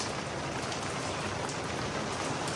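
Rain falls steadily on surfaces in a village, an even, soft patter heard quietly and alone without any voices.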